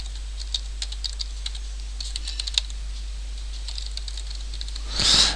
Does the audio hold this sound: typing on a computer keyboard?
yes